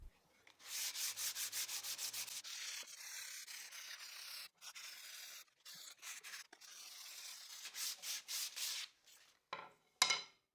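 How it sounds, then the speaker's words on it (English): Hand sanding wood with 100 grit sandpaper, close rapid back-and-forth scratchy strokes in bursts with short pauses between them, no voices. "I will do the hand sanding with 100 grit sandpaper"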